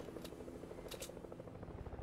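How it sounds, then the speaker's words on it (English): Helicopter in the Fortnite video game, a continuous low rotor drone and chop that fills the whole moment, steady and close, with a few brief sharp game sounds on top. "This kid just flew up with the helicopter"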